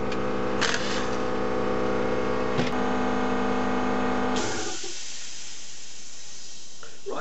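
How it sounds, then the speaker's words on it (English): An air compressor in a workshop runs with a steady, loud droning hum for about four seconds, then cuts off abruptly and leaves near silence. "now the compressor's shut off"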